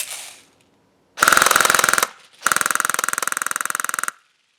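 A G&G RK74-E airsoft rifle fed from a drum magazine fires on full auto in two loud, close bursts, the first about a second long and the second nearly two seconds, each a rapid, even mechanical rattle.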